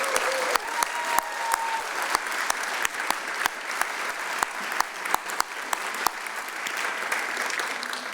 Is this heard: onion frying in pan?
no